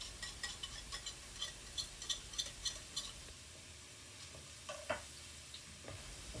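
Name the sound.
mixing ingredients in a cooking pan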